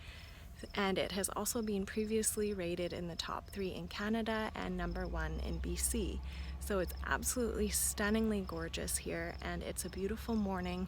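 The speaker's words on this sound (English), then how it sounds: "You can hear the crickets in the background" Crickets chirp faintly in the background on a morning overlooking a golf course in British Columbia, a steady insect trill beneath someone speaking close to the microphone, with light wind rumbling.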